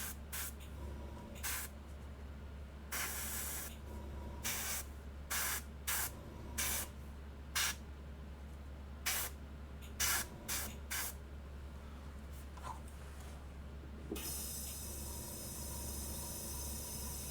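Short airbrush bursts spraying paint, a soft airy hiss repeated in quick intermittent pulses over a steady low compressor hum, ending in a longer continuous spray.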